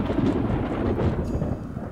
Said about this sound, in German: Ein Sturm kommt auf. Ich kann die Blitze schon sehen.